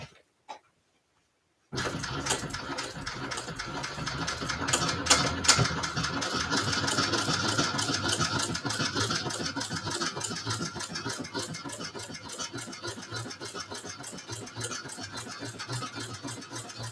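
A sewing machine stitches a leather handbag, starting after a brief silence and then running continuously with rapid, even mechanical clatter, close and fairly loud.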